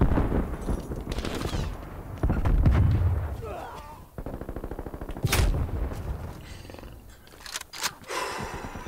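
Bursts of MG82 machine gun fire in Call of Duty Cold War rattle out in rapid strings, loud and close, broken by pauses and single heavy shots, with a voice talking between bursts.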